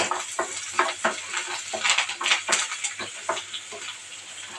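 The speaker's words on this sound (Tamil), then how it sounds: "இப்போ வந்து ரெண்டு வரமிளகாய் சேர்த்துக்கலாம் இந்த வெங்காயத்தை சேர்த்துக்கலாம் இப்போ இதை நம்ம ஒரு வதக்கு வதக்கி விட்டுக்கலாம்" Sliced onions and two dried red chillies are stirred in a pan for a bottle gourd curd kootu, with a steady sizzle broken by repeated clinks and scrapes of a spatula against the metal.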